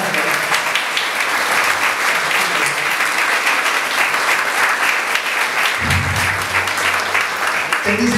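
Theatre audience applauds after a comedy stage performance, a loud, continuous crowd of clapping hands, with a low voice briefly speaking underneath near the end.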